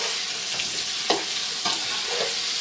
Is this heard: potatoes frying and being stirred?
yes